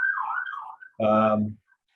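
A siren passing beneath a window, a loud steady electronic tone that cuts in partway through and stops abruptly, with a wavering tone heard before it.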